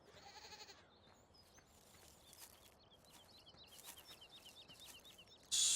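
Goats in the farming video game Farming Simulator 17 bleat faintly in a series of short, wavering calls over a quiet background, with a louder noise burst at the very end.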